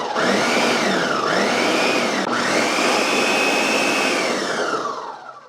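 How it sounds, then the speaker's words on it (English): A kitchen blender mixes homemade salsa with cilantro, whirring loud and steady for about five seconds with a slight shift in pitch partway through, then winding down at the end. "All right, we get this mixed up really well in the blender."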